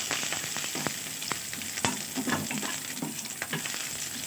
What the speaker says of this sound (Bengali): গোটা জিরে এবং একটা তেজপাতা ফোড়ন দিয়ে দিলাম